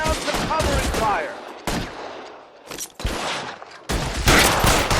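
Gunfire in the video game L.A. Noire comes in rapid, loud volleys of shots separated by short pauses, with bursts overlapping in dense clusters.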